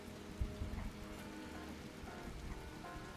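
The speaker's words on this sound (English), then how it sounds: "Oh no, it's raining." Rain falls steadily in the video game Fallout 76, a soft, even hiss of drops on surfaces at low volume with a few faint thumps near the start.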